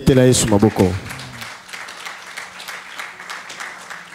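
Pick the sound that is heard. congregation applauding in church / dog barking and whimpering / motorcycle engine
congregation applauding in church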